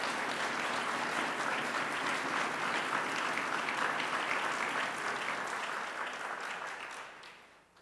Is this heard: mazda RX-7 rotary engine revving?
no